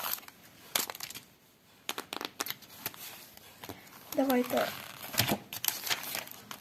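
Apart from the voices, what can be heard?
crinkling paper surprise packet being opened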